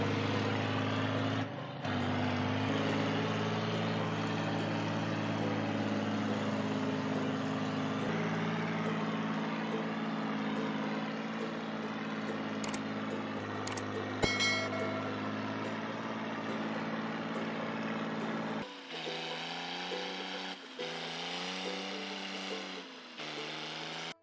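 A tractor engine runs continuously with a steady low drone, holding a constant pitch for most of the stretch before the tone shifts to a higher, wavering note near the end.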